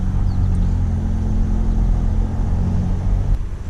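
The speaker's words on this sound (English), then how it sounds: "time to pull up to the old truck" Ford Raptor truck engine idling and rolling slowly up close, a steady low rumble throughout that drops off abruptly near the end.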